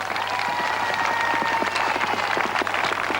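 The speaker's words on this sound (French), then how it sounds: "Le public applaudit, vous l'entendez?" Audience applause at a show jumping competition in The Hague, 1994: dense, sustained clapping from a large crowd, loud and continuous throughout.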